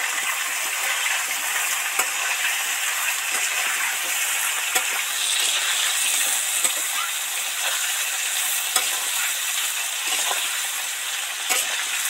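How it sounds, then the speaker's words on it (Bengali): Potato and papaya pieces deep frying in oil, a steady, even sizzle and hiss lasting throughout with faint pops and crackles, no talk over it. "দিলে তাড়াতাড়ি ভাজা হয়ে যাবে।"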